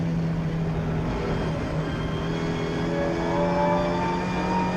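Ford Fiesta and BMW race cars lapping Oulton Park circuit, a continuous droning engine note with a slowly rising whine, steady and moderately loud with no voices.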